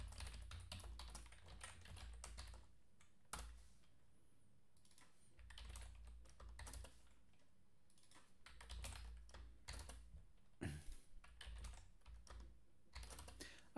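Keystrokes on a computer keyboard while working in Altium schematic design software: quiet, close clicking in quick bursts separated by short pauses, with no voices.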